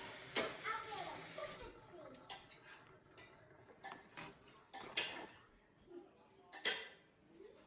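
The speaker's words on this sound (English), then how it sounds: "wash their hands with warm soapy water and then dry them off with a paper towel" Warm soapy water runs from a kitchen sink tap as children wash their hands, with splashing, intermittent water bursts and light clinks of dishes at close range.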